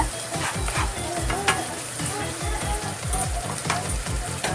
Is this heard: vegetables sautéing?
yes